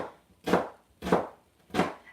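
Three distinct, evenly spaced knife strokes chopping an onion on a cutting board, each a close, crisp thud with a short slicing tail and quiet gaps between.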